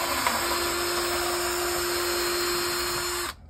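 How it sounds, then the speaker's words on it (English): A power drill bores holes for a mag lock magnet during door access installation, a steady loud whine with a sustained tone running continuously for about three seconds before cutting off abruptly. "But as long as you have a good drill, it'll go up, down, through for you."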